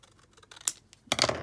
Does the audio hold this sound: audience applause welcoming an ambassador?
no